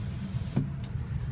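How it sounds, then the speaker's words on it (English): Power rear sliding window on a 2006 Ford diesel King Ranch pickup, a short motor whir and a faint click heard up close inside the cab over a low idling hum. "Let's see, rear sliding window."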